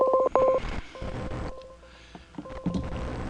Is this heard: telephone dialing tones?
yes